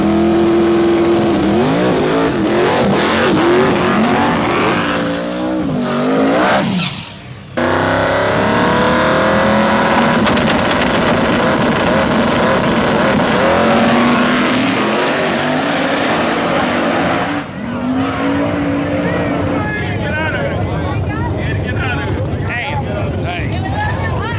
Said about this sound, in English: First round, small tire, we ended up drawing Willie Dynamite, which, again, extremely fast car.